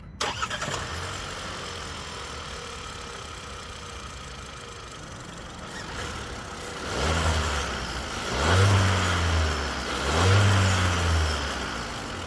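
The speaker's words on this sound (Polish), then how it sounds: "Klasyczna czterocylindrówka pracuje równo i przyjemnie." A 2025 MG HS with a 1.5-litre turbocharged four-cylinder petrol engine and dual-clutch automatic starts up and idles smoothly, then gives three short revs that rise and fall, loud and close with no talk.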